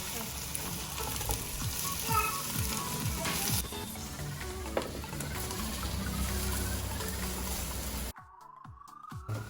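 Onions sizzle steadily in a hot pan for burnt garlic fried rice, with stirring scrapes throughout and a few faint voice fragments, before the sizzle cuts out abruptly near the end.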